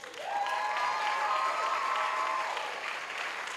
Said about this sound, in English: So these are our pioneer parents. Clap them.